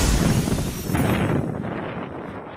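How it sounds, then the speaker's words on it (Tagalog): Strong typhoon wind gusts lash Batanes, roaring loudly as a dense buffeting rush that batters the microphone, then easing slightly toward the end. "Ganito katindi ang hampas ng hangin sa Batanes sa kasagsagan ng pananalasa ng bagyong Julian kahapon"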